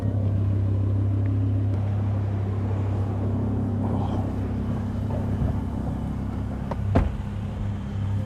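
An orange car is driven, heard from inside the cabin as a steady low engine and road rumble with a few brief knocks and bumps near the end.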